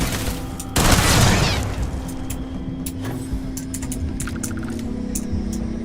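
Turret fire in the space game Starfield: a loud burst of rapid shots and a booming blast early on, followed by a steady hum with scattered sharp cracks of gunfire continuing in the background, no talk.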